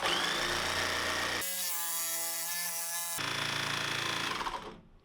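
A power saw fitted with a fine-toothed metal cutting blade runs close and loud, bites into material with a harsh grinding rasp, frees up to a lighter whine midway, cuts again, then winds down.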